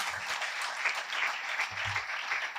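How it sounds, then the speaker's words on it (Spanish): A lecture audience applauds to welcome a speaker, producing a dense, even wash of clapping that holds steady for nearly three seconds, with a brief low murmur of voices underneath. "vamos a recibirle con un fuerte aplauso."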